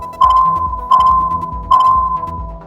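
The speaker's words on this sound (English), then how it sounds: "his EM detector emitted a series of short, sharp pings" Three short, sharp electronic pings from an EM detector sound at an even pace, each with a ringing tone that fades before the next.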